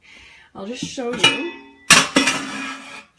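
Metal pots clanking and clattering as they are pulled from a kitchen cupboard under a cooktop, a few loud ringing knocks close by, with someone briefly talking first.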